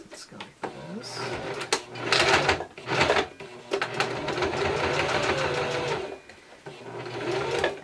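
A sewing machine runs in short bursts and then a longer steady run, stitching close to the edge of pressed fabric, with its rapid rattling needle clatter close by and brief pauses between runs.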